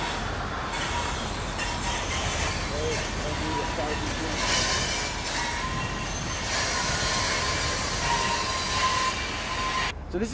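A train rolls to a stop at Kenora station in Ontario, beside Lake of the Woods, with a steady heavy rumble, wheel squeal and clanking, close and loud throughout, and some voices mixed in.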